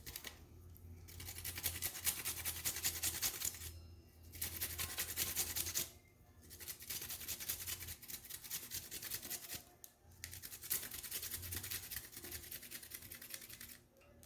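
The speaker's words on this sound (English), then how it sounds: "I'm going to go ahead and start slicing up the ginger here" A kitchen knife slices through fresh ginger root on a cutting board, with steady quick rasping strokes in bursts separated by short pauses, close and fairly quiet.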